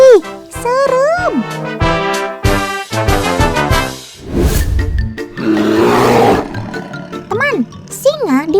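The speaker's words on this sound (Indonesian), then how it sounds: "singa dipercaya memiliki raungan yang paling keras di antara kucing besar lainnya" A lion's deep growling roar swells through the middle of the clip, with animated voices talking before and after it.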